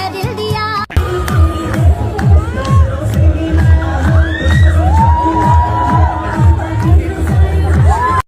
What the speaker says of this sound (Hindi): यहाँ पे बहुत भीड़ आ रखी है